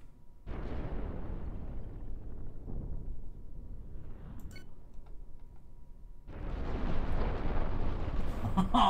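Chain reaction of explosions in the space combat game Cosmoteer, with dense rumbling blasts that roll on for a few seconds, drop back, then surge again loud and sustained near the end.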